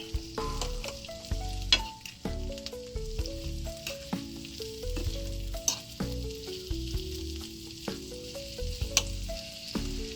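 Food sautés in hot garlic oil in a pan, a steady close sizzle broken by repeated stirring scrapes and clinks, with no talking.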